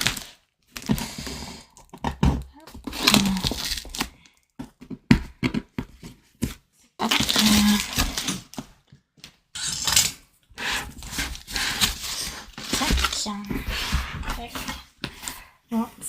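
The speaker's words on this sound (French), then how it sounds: "si j'arrive à ouvrir le paquet" A parcel is torn and pulled open in bursts of crinkly rustling, scraping and tearing between pauses, close and fairly quiet, with someone speaking French in between.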